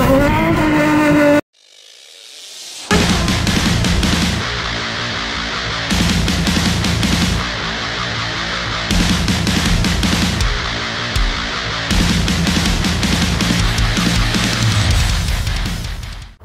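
A Nissan 350Z with an aftermarket eBay exhaust on the stock manifold revs and drives during a clutch test, its loud engine note rising and dropping in surges with brief pauses between pulls.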